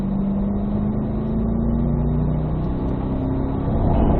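A Corvette Z06 engine drones at steady revs, held in second gear on a track, with a humming tone that climbs slightly toward the end.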